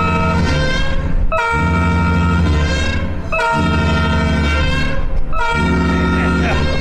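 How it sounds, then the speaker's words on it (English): A loud, blaring cruise ship emergency alarm horn aboard Mariner of the Seas, sounding in long repeated blasts with brief gaps between them, close and overpowering. "This signal is for awareness in the unlikely event of a real emergency."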